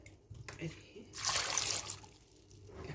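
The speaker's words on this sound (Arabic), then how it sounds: "احط فيهم 3 كوبايات ميه او كوبايتين على حسب ما نشوفوا ايه." Water poured from a cup into a pot of potatoes, a rushing splash lasting under a second, moderately loud, with quieter kitchen handling before and after.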